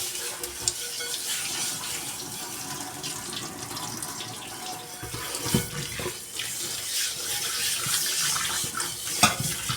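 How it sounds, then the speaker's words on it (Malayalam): Something being scrubbed with a scrubber and rinsed under a running tap at a sink: steady splashing water with rough scraping strokes layered on top, close by and moderately loud. "എല്ലാം നല്ലപോലെ ഉരച്ച് കഴുകണം."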